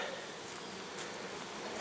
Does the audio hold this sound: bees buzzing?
yes